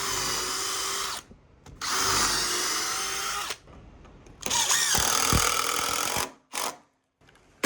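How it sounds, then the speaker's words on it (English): A power drill drives screws into a deck stair stringer, with several loud whirring bursts separated by short pauses and a final quick burst near the end. "Then you want to connect screws this way first."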